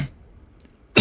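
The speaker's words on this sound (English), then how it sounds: "sorry for the coughing, guys." A single sharp cough sounds close at the very end, after a brief earlier burst and near silence.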